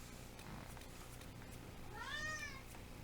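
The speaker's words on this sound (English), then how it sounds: "Cat!" A house cat gives a single rising meow about two-thirds of the way through, heard over a low steady background hum.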